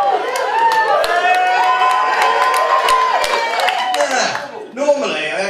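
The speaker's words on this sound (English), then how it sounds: "It's an organic cheer rather than like conspicuous disbelieving silence." A comedy club audience cheers and claps in an organic burst for a stand-up comedian, a loud dense crowd roar with whoops and scattered applause that sustains, dips briefly near the end, then rises again.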